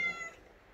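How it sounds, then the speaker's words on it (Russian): A house cat gives one short, fairly faint meow at the start, fading quickly into quiet room noise. "Будет она мяукать и мяукать."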